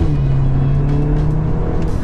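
Modified VW Golf R MK8 with brake and suspension upgrades during a 60 mph acceleration and braking run: a loud, steady engine drone with a sustained low tone and road roar throughout, heard from inside the car.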